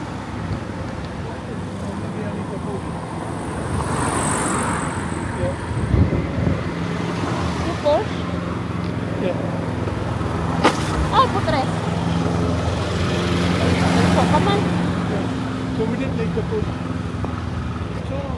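Road traffic in the UK passing steadily at moderate distance, cars swelling and fading in a constant wash, while people chat close by over it.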